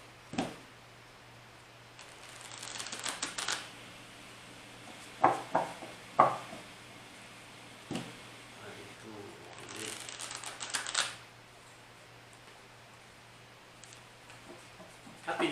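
Tarot cards are drawn and shuffled in two short, papery riffling bursts, with a few soft taps and handling clicks between them, faint over a low steady room hum.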